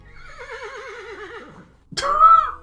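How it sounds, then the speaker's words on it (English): A horse neighs in the video game Yuppie Psycho: a loud, wavering whinny falling in pitch over about a second and a half, then after a short gap a sharp, bright snort-like second cry, with no talk over it. "Horse noise."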